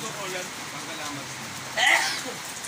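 Steady rain falling on surfaces, a soft continuous hiss with a brief louder splash near the end, fairly faint and close by.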